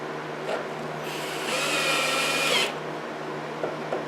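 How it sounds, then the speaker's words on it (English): A power drill driving a screw while fitting a wiper motor on a 1997 Mercury Grand Marquis, set to low torque; one short, steady whirring burst of about a second, close and moderately loud. "Feels like I'm screwing it right into the windshield."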